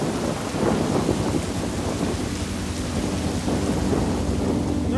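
Heavy rain drums steadily on surfaces during a tuk-tuk trip in Sri Lanka, with deep rolling thunder rumbling underneath throughout, loud and continuous.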